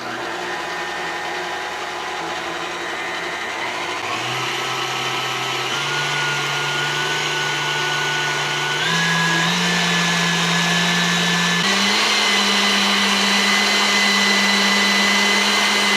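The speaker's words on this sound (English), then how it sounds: "we're going to use a stand mixer off of the EcoFlow here" Stand mixer powered by an EcoFlow RIVER Pro power station, a steady loud motor whine that holds for the whole stretch and steps up in pitch several times as the speed is raised.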